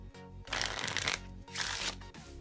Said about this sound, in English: We'll even shuffle it.